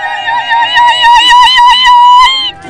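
A woman ululates at a festive Eid al-Adha gathering, a loud, close, sustained high warbling trill lasting over two seconds. Faint claps sound beneath it, and a brief spoken word comes at the end.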